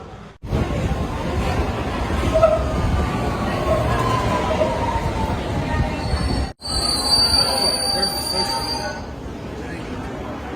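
A London Underground train rumbles steadily with rising wheel squeal and a high electric whine, loud and close, with a brief dropout and the murmur of a crowded station underneath.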